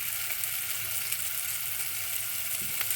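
French toast fries in a little olive oil in a pan, giving a continuous close, crackling sizzle with a few faint stirring taps and no talking.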